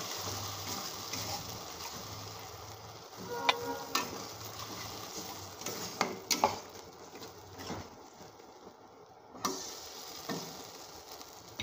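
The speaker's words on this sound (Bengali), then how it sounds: "জল দিয়ে মশলাটাকে ভালো করে কষাবো।" Spice paste frying and stirred in a pan with a little water added, a steady soft sizzle under scattered sharp clicks and scrapes of the spoon against the pan, close and fairly quiet, with no talking.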